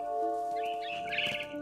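Bright high chirps and tweets from a mother bird in the game What Remains of Edith Finch, clustered near the end over a steady tonal game soundtrack, close and without talk.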